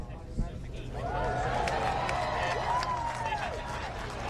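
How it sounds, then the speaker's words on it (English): A crowd at a Virgin Galactic spacecraft launch claps and cheers in a sustained round of applause, moderately distant, with a voice talking over it and a whistle-like rising tone partway through. "We heard a round of applause."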